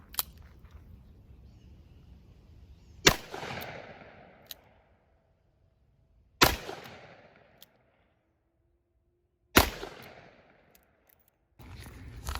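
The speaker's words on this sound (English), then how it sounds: "Let's keep shooting it. Now for 357 Magnum out of this Colt Lawman." .357 Magnum rounds fired from a Colt Lawman revolver into a bulletproof backpack panel: four loud, sharp shots a few seconds apart, each trailing off in a long echo, with quiet stretches between.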